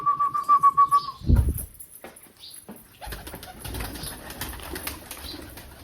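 Pigeons at a rooftop coop: a throaty pulsing coo at the start, a loud flurry of flapping wings, then steady rustling, shuffling and soft flutters as the birds move about close by.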